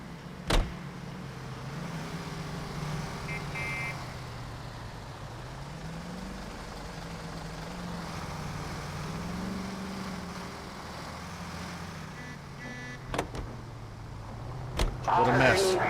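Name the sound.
car being driven, from the video game L.A. Noire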